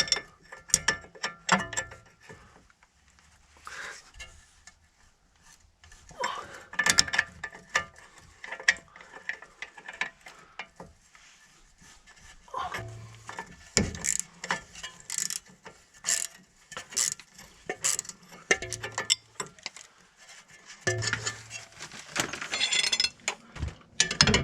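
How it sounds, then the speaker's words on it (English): A hand ratchet with a Torx bit tightens a bolt on a BMW 116i, giving bursts of quick metallic clicking separated by short pauses, up close with light clinks in between. "Just remember to set the Torx one to tightening and not untightening."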